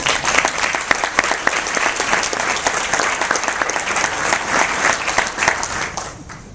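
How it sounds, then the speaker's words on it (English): An audience at a Rotary Youth Exchange gathering breaks into sustained, dense clapping that stays loud for several seconds before tapering off at the end, with no speech over it. "Can I get a round of applause?"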